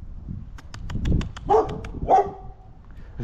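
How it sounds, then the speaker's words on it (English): A dog barks twice outdoors during a walk, fairly close and loud, over a brisk run of faint ticking and low background rumble. "They just want to bark today."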